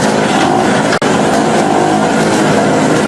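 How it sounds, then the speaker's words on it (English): Small fuel-powered portable generators run with a loud, steady, close engine drone, broken by one brief cutout before the motor noise resumes evenly. "I filled both generators with the same quantity of fuel, turned them on"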